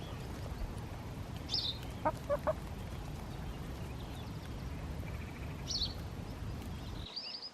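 Hens cluck outdoors with a few short, scattered clucks and calls, moderately near, over a steady rustling background.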